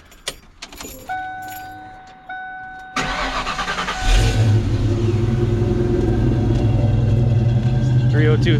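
Ford Mustang Fox body car starting up: keys jangle and chime, the starter cranks, then the engine catches into a loud, deep idling rumble that holds steady nearby.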